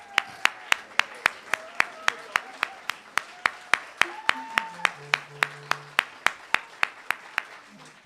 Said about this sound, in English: Let's acknowledge them one more time with applause